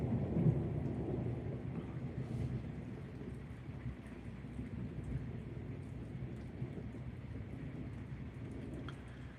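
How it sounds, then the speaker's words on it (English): A storm rumbles with low, distant thunder beneath steady rain, a continuous heavy wash that eases slightly after the first seconds. "We get some thunder and lightning over here,"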